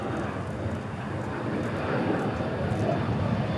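An Embraer E-175 jet at DFW International Airport at night, a continuous dense engine rumble and roar, fairly loud and steady with no voices over it.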